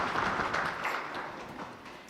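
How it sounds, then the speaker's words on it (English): Audience applause at the launch of Classic 263, a Zimbabwean talk radio station, steady and fairly dense crowd clapping sustained throughout without a break, with no talking. "I think we need to clap for them at this point."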